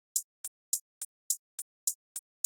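Two hi-hat patterns in an electronic track play together, one on each beat and the other between the beats, forming a crisp alternating tick pattern that is quiet and isolated.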